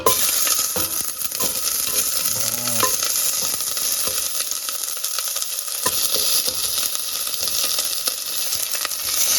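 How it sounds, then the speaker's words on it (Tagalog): Onions sautéing in smoking-hot oil in a pan for chicken adobo, a steady loud sizzle with scrapes and clinks of stirring throughout, no talking. "Haluin ng haluin hanggang mag-translucent yung yung onion."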